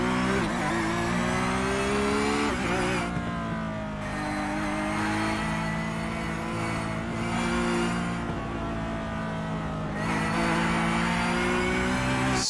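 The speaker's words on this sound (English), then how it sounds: "Absolutely wonderful noise from the 991 GT3R" A Porsche 991 GT3 R race car engine in a sim racing game at Lime Rock revs hard and high, climbing repeatedly with sharp gear shifts, loud and continuous throughout.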